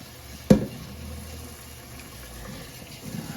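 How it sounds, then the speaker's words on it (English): Water is poured into a pot of washed rice for cooking chicken adobo, a soft continuous splashing and trickle after a sharp knock of the pot at the start, close and fairly quiet. "And now I am putting the water in for it to cook."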